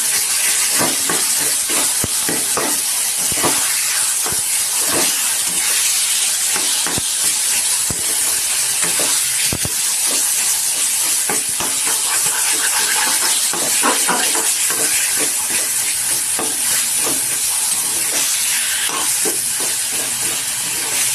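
Eggplant with chili is stirred in a hot pan, keeping up a loud, continuous hissing sizzle close by for a long stretch, dotted with scraping and clicking stirs and no talk.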